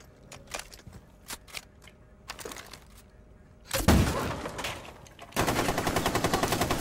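Machine gun fire from a 150-round magazine gun in Rainbow Six Siege, scattered sharp shots early, then a loud burst and a sustained rapid automatic volley at the end.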